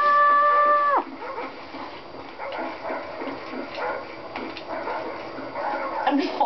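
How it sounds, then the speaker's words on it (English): Attack dog killstreak barking in the video game Call of Duty Black Ops, several scattered barks and yips of moderate loudness after a steady electronic tone cuts off, mixed with game noise and muffled voices. "I'm just following my attack dog."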